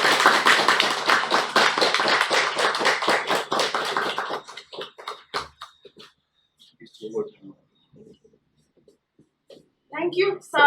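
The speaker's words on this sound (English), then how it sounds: "Give her a huge round of applause." Audience applause at a WorldLink Toastmasters Club meeting for the presiding officer, a loud, dense burst of clapping for about four seconds that breaks into scattered claps, then silence and a brief voice near the end.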